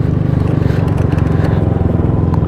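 A motorcycle engine idles close by with a loud, steady, throbbing low rumble that runs unbroken through the whole clip.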